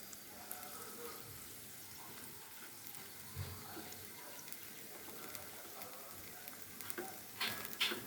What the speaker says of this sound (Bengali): এখন এগুলো আমি ভেজে নিব। ডুবো তেলে ভাজার কোনো দরকার নেই, অল্প তেল দিয়েই ভাজা যাবে সুন্দর।